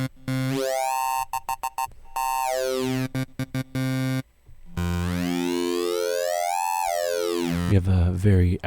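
A Native Instruments Massive synth plays the dirty needle wavetable as gliding, buzzy tones that sweep up and down in pitch, broken by short stuttering gaps, with harsher gritty notes near the end.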